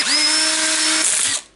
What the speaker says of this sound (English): we have the good old, not too good Dewalt Drill DC827